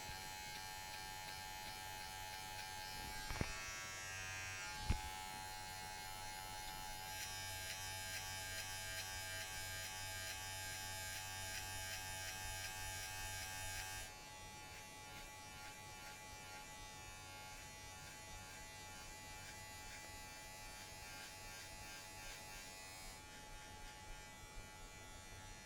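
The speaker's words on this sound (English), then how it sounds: "let's try the trimmer on the back part and see if we can clean it up just a tiny" An electric hair trimmer buzzes continuously through a self-administered buzz cut, a steady close whine that shifts in pitch and level as it moves over the hair, with a couple of brief knocks early on.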